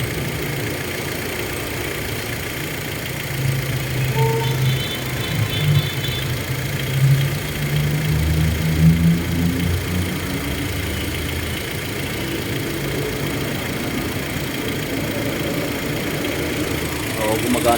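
A Hyundai car idling with its air-conditioning fan running, a steady low engine hum and fan whoosh throughout, with someone talking over it.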